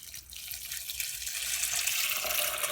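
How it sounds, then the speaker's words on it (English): Tap water runs steadily into a Brita filter pitcher, a continuous broadband rush of filling water that grows slightly louder and fuller as the jug fills, with no talking. "So I am going to just fill this with water."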